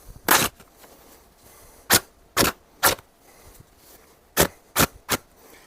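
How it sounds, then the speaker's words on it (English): Quick ripping slashes of a Bestech Bihai knife cutting through denim fabric, seven sharp tearing bursts in irregular pairs and singles, close and crisp against near silence. "Let's see what it'll do to some denim with just some quick rips."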